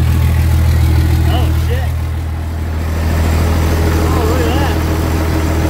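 A 2000 Dodge 24v Cummins diesel with an automatic transmission, tuned to 600hp and long left sitting, runs with a loud, steady low rumble while someone talks excitedly over it.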